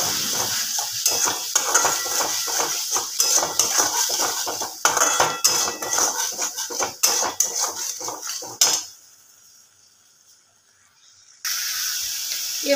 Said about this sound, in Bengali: খুব ভালো করে মশলাটাকে কষে নেব।